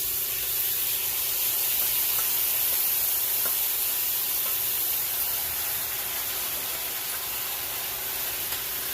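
Shrimp sizzle in a hot pan with browning onions and garlic on an electric stove, a steady, loud frying hiss that holds without a break and has no talk over it.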